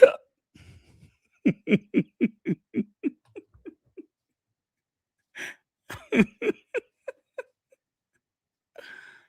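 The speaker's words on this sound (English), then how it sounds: "I get the hiccups." A rapid series of about a dozen sharp, close hiccups comes in two bursts separated by a short pause, loud and distinct with no talking over them.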